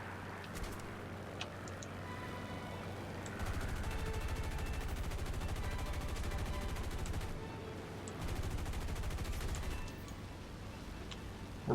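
Sustained rapid machine-gun bursts from aircraft guns in the War Thunder combat flight game, two long rattling volleys in the middle with lighter shots around them, loud and steady against engine noise.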